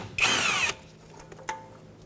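A power tool spins off an 8mm bracket bolt on the steering knuckle of a 2003-2012 Chevrolet Colorado: one short, loud, close whirring burst of about half a second, followed by a couple of faint metallic clicks.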